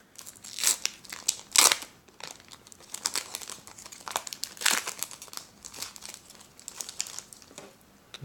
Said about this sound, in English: Today I'll be opening up a pack of 2015-16 Upper Deck Hockey Series 2.